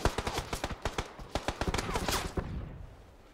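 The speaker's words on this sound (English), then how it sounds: "I threw a stun grenade." Rapid bursts of gunfire crack in the video game PUBG alongside a stun grenade blast, many sharp close shots in quick irregular volleys that thin out toward the end.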